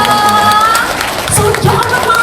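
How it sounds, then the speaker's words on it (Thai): Crowd applause and cheering from an audience at a live singing show in Phitsanulok, steady clapping with voices mixed in throughout. "ขอเสียงปรบมือให้กับน้องด้วยนะคะ"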